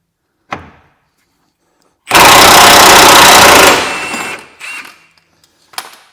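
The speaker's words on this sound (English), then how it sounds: "I'll just get my socket or my gun underneath and blast it off" A loud burst from an impact gun rattling a wishbone bolt loose underneath a Vauxhall Corsa C, lasting about two seconds, framed by a few sharp knocks and clanks before and after.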